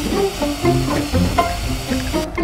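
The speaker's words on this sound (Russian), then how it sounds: "Всё, главный герой жарится." Sizzling, frying crackle from the main character burning up in the video game Suicide Guy, a steady hiss with scattered pops that runs the whole moment alongside game music tones.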